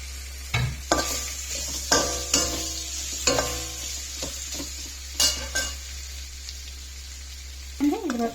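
Tamarind frying in a pan for ivy gourd chutney, a crackling sizzle broken by repeated scrapes and clacks of a spatula stirring, over a low steady hum, with a short voice near the end.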